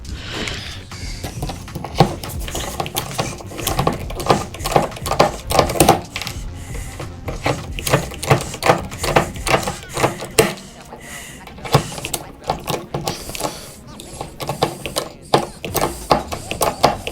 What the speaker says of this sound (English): Put the little rivets in so I don't lose the holes.